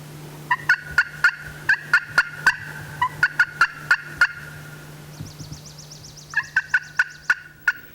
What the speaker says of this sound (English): calling produced some aggressive gobbling to the north